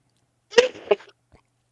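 A single sharp human sneeze, loud and close, bursts out with a quick second explosive part, followed by near silence and a faint small noise at the end.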